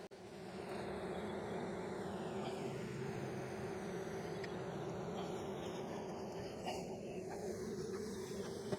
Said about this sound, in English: I mean, they're not mean bees.